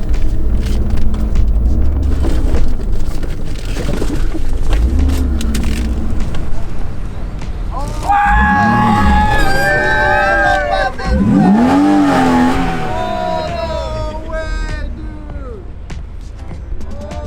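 BMW E36 M3 driven up in front of a shop, engine revving in rising and falling pitch sweeps, loud and close, with people talking and cheering over it.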